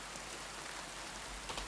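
Steady rain pours in the video game Kingdom Come Deliverance 2, a dense, even wash of droplets hitting surfaces with no voices over it.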